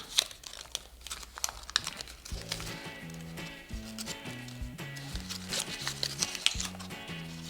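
Paper being folded into an origami angel with a long reverse fold, giving soft, close crinkling and creasing rustles in short irregular bursts over background music, with no talk.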